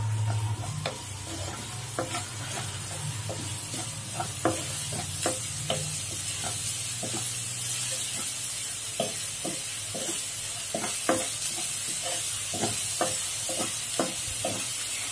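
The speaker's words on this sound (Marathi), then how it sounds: "कांदा आपला परतत आलेला आहे" Chopped onions sizzle and sauté in oil for a Maharashtrian green moong dish, with a steady broad hiss and frequent sharp clicks of a spoon scraping and stirring the pan, close and continuous with no talking.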